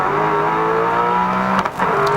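Grice's touring car races at the 1993 Sandown 500, its engine droning loud and steady from the onboard view, then briefly dipping and surging as it shifts.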